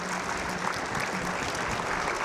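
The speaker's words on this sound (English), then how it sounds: "Please give Bob a round of applause." Applause from an audience at a State of the City 2021 civic event, a dense, steady burst of clapping that fills the short stretch at moderate loudness.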